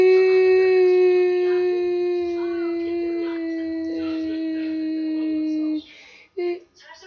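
A long, drawn-out dog howl in Minecraft holds steady for several seconds before cutting off, followed by a few short bursts of other sounds.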